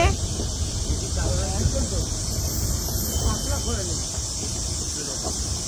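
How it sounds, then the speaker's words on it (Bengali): Crickets in a jungle near Alipurduar keep up a steady, high, continuous drone that fills the whole stretch, with faint voices and low rumbling underneath. "শুধু জঙ্গল আর ঝিঝি পোকার ডাক।"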